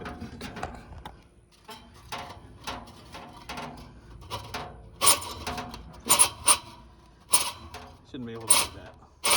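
Loose blower wheel in a central AC unit being shifted by hand, irregular creaks, knocks and metallic rattles, close up, with speech mixed in.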